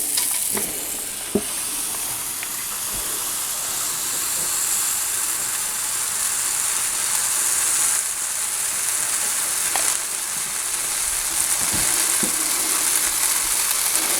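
Sourdough waffle batter sizzles with a steady, even hiss in a hot waffle iron, continuous throughout with a few faint clicks.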